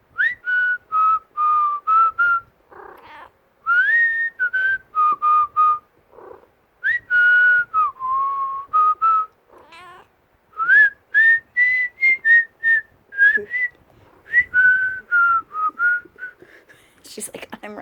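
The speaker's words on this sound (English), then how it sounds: "she'll do this when I whistle too" A person whistles to a pet cat at home, a string of short bright chirping whistles in quick rhythmic bursts with brief pauses, close and clear, ending with a faint rustle.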